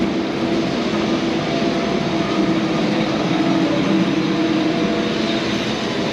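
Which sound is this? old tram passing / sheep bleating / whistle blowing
old tram passing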